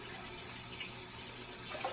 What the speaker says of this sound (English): So you just fill up your sink with water